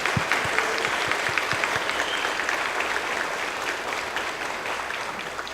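Audience applause at a nursing associate degree pinning ceremony, a steady wash of clapping from a large crowd with a few sharp nearby claps, sustained throughout without voices.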